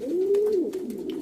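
Pigeons in a pigeon loft coo close by, a smooth sustained low call followed by softer wavering coos, with faint rustling and no voices.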